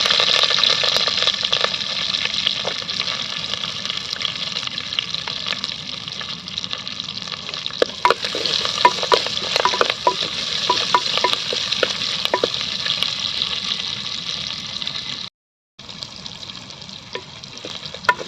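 Onions and chillies sizzle steadily in hot oil after popping mustard seeds, for a Kongu-style country chicken curry, with occasional stirring clatter and a brief silent gap near the end.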